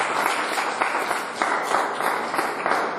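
A crowd gives loud, steady applause for an international taekwondo referee at a martial arts association gathering in Daman, with many hands clapping together close by and no voices over it.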